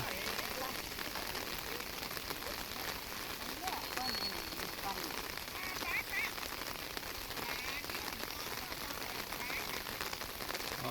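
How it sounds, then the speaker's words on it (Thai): Steady rain falls throughout, a dense even patter on surfaces with constant hiss and no pauses. "ฝนก็ยังตกเรื่อยๆ"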